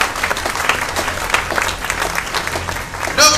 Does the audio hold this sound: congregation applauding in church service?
yes